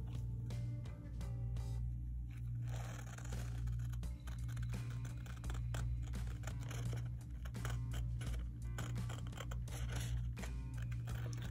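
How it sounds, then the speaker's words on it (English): Scissors cutting through large sheets of paper for an oversized tattoo stencil: crisp, irregular snips and papery crinkles close by, over a constant low electrical hum. "I'm just making sure that I cut this evenly as best as I can."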